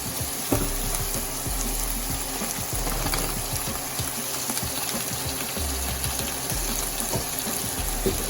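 Mashed corned beef hash seasoned with salt and pepper fries in a pan, giving a loud, continuous crackling sizzle with scattered pops up close.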